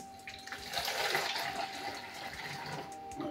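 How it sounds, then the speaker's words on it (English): Homemade kombucha poured through a funnel into a bottle, a steady splashing liquid stream that builds slightly and runs continuously at close range, with no talking. "what I tend to do is just pour a little bit in"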